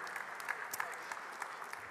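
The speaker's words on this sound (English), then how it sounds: "Let's give him a round of applause for that." Conference audience at a Ukraine support summit in Rzeszów claps in a brief round of applause, a fairly quiet, scattered patter of hands with a few sharper individual claps standing out.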